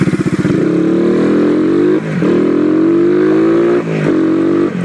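A motorcycle converted to run on E100 ethanol idles loud and close with a steady throbbing engine note and a few brief dips in revs.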